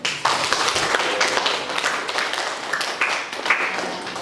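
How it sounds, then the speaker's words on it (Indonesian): Students in a classroom clap together for a classmate's question, a brisk, uneven patter of many hands that carries on steadily throughout. "Beri tepuk tangan"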